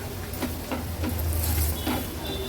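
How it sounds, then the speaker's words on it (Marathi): Turmeric and homemade Agri Koli masala sizzle in hot oil, a close, steady crackle with faint stirring scrapes and no talking. "हळद आणि मसाला पण तेलावर छान परतून घेऊया."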